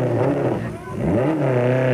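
A damaged rally car's engine keeps running after a stunt at the 1991 Toyota Dealer Rally before a big crowd. It hums steadily and loudly, dips briefly in pitch, then revs back up.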